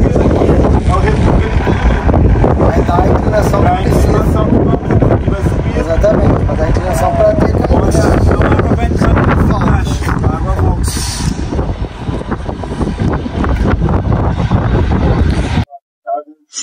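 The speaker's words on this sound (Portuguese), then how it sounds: "tá ventando muito aqui em cima" Strong wind on a rooftop roars and buffets the microphone for the whole stretch, loud and constant, cutting off abruptly near the end.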